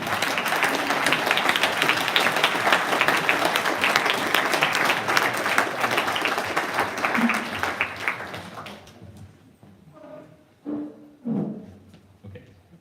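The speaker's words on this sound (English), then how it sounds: "can we do a warm round of applause" A lecture audience gives a warm round of applause for an Olympian and architect, dense steady clapping for about nine seconds before it tapers off and a few voices murmur.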